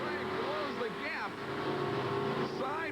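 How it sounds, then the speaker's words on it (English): Monster truck engines roar side by side at a mud and monster truck show, loud revving surges rising and falling over a steady drone, with a voice talking over the noise. "Side-by-side monster truck action with the Wisconsin Night Stalker trying to come from behind."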